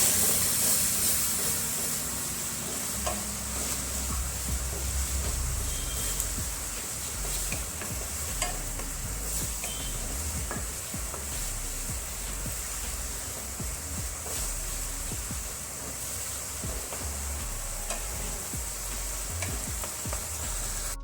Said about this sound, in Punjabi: ਤੇ ਹੁਣ ਚੰਗੀ ਤਰ੍ਹਾਂ ਆਪਾਂ ਟਮਾਟਰਾਂ ਨੂੰ ਵੀ ਭੁੰਨ ਲਵਾਂਗੇ